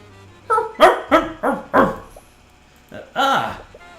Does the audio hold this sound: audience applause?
no